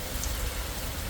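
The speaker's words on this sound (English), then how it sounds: "Whoa, here comes the rain." Rain falling on a canal boat along the Oxford Canal, a brief steady patter and hiss of drops at moderate level, without voices.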